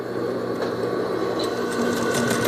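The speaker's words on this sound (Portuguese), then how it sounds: "Vou passar uma costura aqui." A sewing machine runs steadily, stitching a seam joining a skirt waistband, a close, even mechanical whir with a faint rhythmic pulse throughout and no talking.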